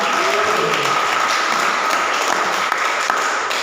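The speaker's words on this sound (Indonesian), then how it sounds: "saya ingin kita tepuk tangan untuk Tuhan kita yang luar biasa" Applause fills a church service as the congregation claps for God, a dense, steady wash of many hands throughout, with some faint voices mixed in.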